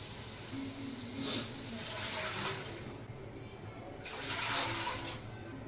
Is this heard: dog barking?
no